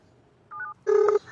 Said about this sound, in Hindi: अरे अभी मिला उसे फोन।